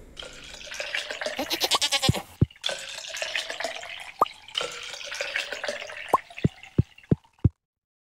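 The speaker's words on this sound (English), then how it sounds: "Got two grown goats now." Goats in the farming game Stardew Valley bleat in short synthesized calls, mixed with chiming game effects and a run of crisp popping clicks near the end, fairly close and clear.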